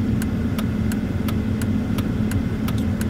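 An Audi A4 V6 quattro idles just above 1000 rpm with a steady, close low rumble and a faint regular ticking running through it.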